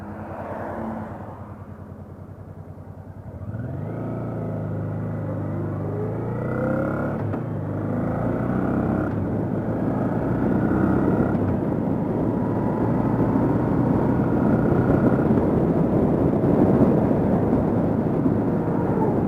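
A Honda NT700V Deauville motorcycle engine idling close by, starting as a low uneven rumble, then catching and rising into a steady, louder running drone that holds to the end, no talking.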